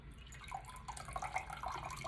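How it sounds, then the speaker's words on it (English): Water draining and dripping from a potted orchid lifted after soaking, a quiet run of small irregular drips and trickles falling close by, with no talking. "and just let the water drain out."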